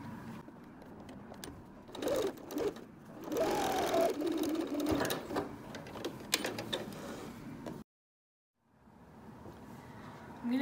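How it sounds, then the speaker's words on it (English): A sewing machine stitches a channel along the edge of a fabric mask, running in steady bursts of rapid mechanical whirring that stop and restart, close and fairly loud, with a brief silent gap near the end. "We're going to sew right along this edge to create a channel for our elastic."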